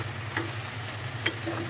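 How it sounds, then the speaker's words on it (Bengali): Pieces of hilsa fish head fry in spiced oil, a dense continuous sizzle close by with a couple of sharp stirring taps. "এখন মশলাগুলোকে ভালোভাবে একটু কষিয়ে ইলিশ মাছের মাথাটা দিব।"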